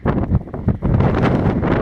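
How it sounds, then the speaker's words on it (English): Strong gusts of wind buffeting the microphone at Kata Tjuta near Uluru, loud and rumbling, surging in waves with no other sounds standing out. "It's very windy here."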